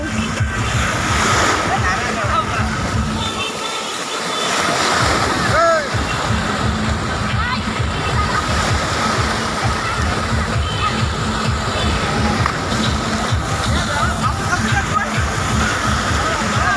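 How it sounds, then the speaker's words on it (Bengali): Continuous churning water and surf-like washing from an artificial wave pool at a resort park in Jhenaidah, Bangladesh, with a busy crowd murmuring and shouting throughout. "এইখানে যে ঢেউ কৃত্রিম ঢেউ তৈরি করেছে মিনি সমুদ্র"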